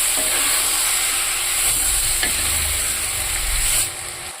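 Tomatoes and tamarind stirring and frying in a pan for Telugu tomato dal curry, a steady close sizzle with broad hiss and a few soft scraping stirs, fading slightly at the end.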